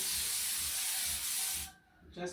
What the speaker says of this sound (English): Using a cooking spray, I'll just spray